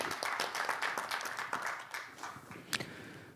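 An audience claps for professors being introduced at a Korean academic society's digital policy debate: dense, steady applause of many hands at moderate level, thinning slightly near the end with one sharper clap.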